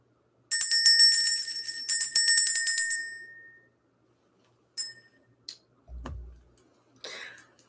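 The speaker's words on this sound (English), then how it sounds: "Let's ring the bell." A small handheld bell rung to clear energy gives two bright, rapid ringing bursts that fade out, followed by a few brief faint clinks and handling knocks.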